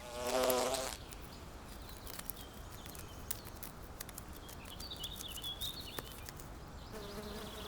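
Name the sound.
wasps and hornets buzzing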